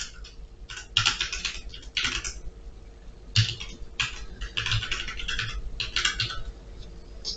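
Typing on a computer keyboard, bursts of quick close key clicks separated by short pauses, crisp and moderately loud with no talk.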